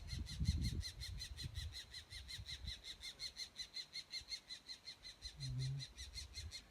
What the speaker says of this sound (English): Such nice bird life here.